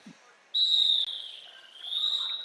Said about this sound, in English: Rolling whistle means we are very close to approaching the start of our game.